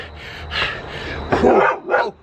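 A dog that is hostile to a man out on a hillside workout barks several times up close, loud sharp woofs in short bursts with a yelp-like edge.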